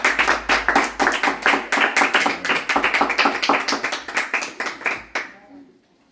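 Congregation at a home worship service in a favela clapping hands in a steady, even rhythm, loud and close, for about five seconds before stopping abruptly, with voices faint underneath.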